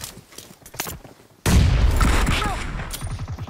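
BGMI video game gunfire on an iPhone 14: sparse shots at first, then a sudden loud burst of rapid fire and booms with metallic ringing, over talking players.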